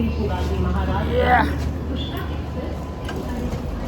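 A low, steady rumble of a moving train carriage, coach M2, fills the background while people talk over it.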